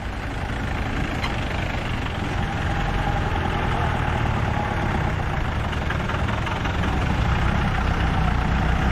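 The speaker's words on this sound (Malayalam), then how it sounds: "ജീപ്പുകൾ കയറി വരുന്നു." Jeep engines labour steadily up a broken, potholed hill road in Idukki district, a continuous low rumble of heavy motors throughout, close and fairly loud with no talking.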